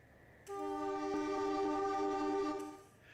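A locomotive horn in Trainz Simulator 2006 gives a single steady chord-like blast lasting a little over two seconds, loud and close, with no talk over it, before tapering off.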